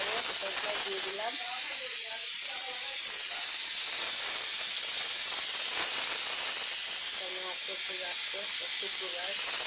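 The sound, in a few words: water boiling for pulao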